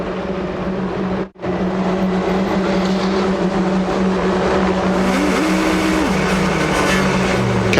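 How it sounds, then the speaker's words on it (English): GP2 race cars on the Circuit de Catalunya in Barcelona, a loud, steady engine roar from the track that holds for the whole span, with a brief dropout early and a rising tonal whine later. "Cars coming to the grid for, what, the fourth time, half-dozenth time this afternoon"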